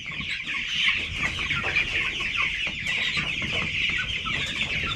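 Chickens in a large pastured flock of over 400 birds cluck steadily, a dense near chorus of overlapping clucks and calls with no talk.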